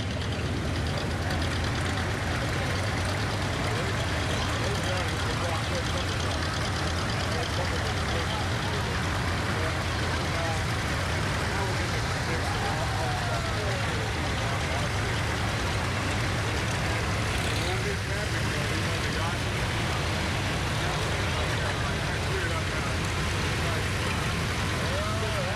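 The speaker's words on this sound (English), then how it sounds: "they might want to hear these tractors" A mass of tractors at the world's largest tractor drive in Grand Island, Nebraska rumble and idle in a low steady drone, with outdoor crowd murmur and occasional voices mixed in.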